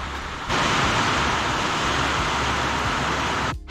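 A sudden outdoor rain shower arrives as a loud, steady, broadband hiss that holds for about three seconds and then cuts off.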